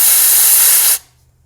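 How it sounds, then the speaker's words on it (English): A pressurised spray hisses loudly and steadily as it washes a coolant leak from under the water pump of a 2016 Audi Q5 EA888 engine, then cuts off abruptly after about a second. "See that little coolant puddle right there? Just spray it away."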